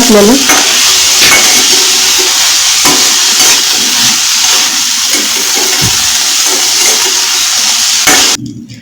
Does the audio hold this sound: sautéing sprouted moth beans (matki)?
yes